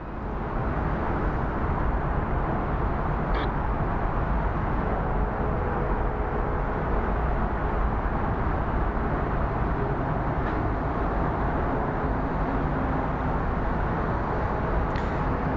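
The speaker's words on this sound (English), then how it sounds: "And I hear a train." A train passes near Phoenix Sky Harbor airport with a loud, steady rumble and roar that holds throughout, broad and continuous, with no talk over it.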